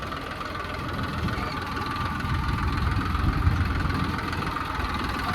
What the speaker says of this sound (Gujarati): આપણે આ બાજુ ટ્રેક્ટર રાખીએ હે.